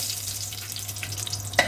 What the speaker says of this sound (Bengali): এবার তাতে আমি প্রথমে শুকনো লঙ্কা দিয়ে দিলাম, এবার দারচিনি দিলাম, এলাইচি দিলাম, লবঙ্গ দিলাম।